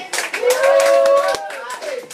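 A group claps hands in a small room during a course session while a voice speaks and sustains a tone over the scattered, moderately close claps.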